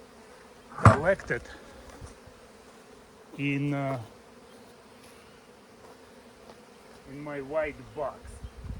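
Honey bees buzzing steadily around open hives while an artificial swarm is made, a continuous low insect drone running throughout, with someone talking intermittently over it.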